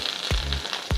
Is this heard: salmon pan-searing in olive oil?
yes